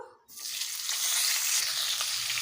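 Cauliflower pieces fry in hot oil left over from frying fish, a loud, close, continuous crackling sizzle that bursts in suddenly and holds steady.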